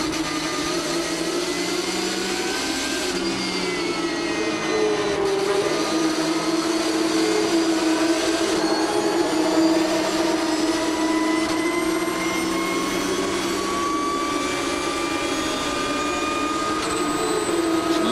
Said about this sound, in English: Lovely to hear these cars' engines scream.